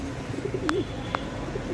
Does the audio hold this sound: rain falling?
no